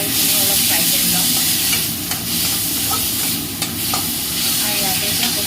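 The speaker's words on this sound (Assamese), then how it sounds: "কণ বিলাহীখিনি অলপ ফ্ৰাই কৰি লওঁ" Small tomatoes frying with turmeric in a pan give a loud, continuous hissing sizzle with a few brief scraping stirs, close up and unbroken throughout, with no talking.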